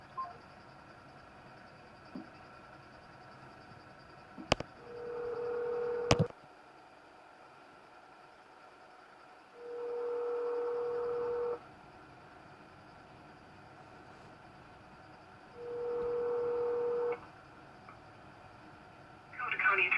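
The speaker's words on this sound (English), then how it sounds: "Please leave a message after the tone." A phone call plays a steady voicemail tone three times, each a plain beep lasting one to two seconds and spaced several seconds apart, over a faint hum with a couple of sharp clicks.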